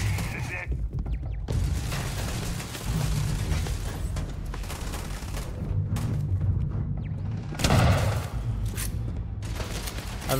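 Grenade blasts and heavy combat gunfire in the Starfield video game, a dense run of booms and thuds over about ten seconds, with one especially strong burst near the eight-second mark and voices speaking between the explosions.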